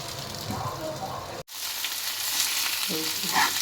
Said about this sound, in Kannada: ಬೆಣ್ಣೆ ಹಾಕಿದ್ದೀನಿ, ಚೆನ್ನಾಗಿ ಬೆಣ್ಣೆಲಿ ಫ್ರೈ ಆಗಬೇಕದು.